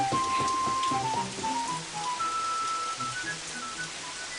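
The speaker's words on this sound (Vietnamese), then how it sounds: "Bây giờ trời mưa rồi, hay là sáng mai đến đi." Steady rain falls in a broad, continuous patter, with a soft melodic musical line playing over it and no talking.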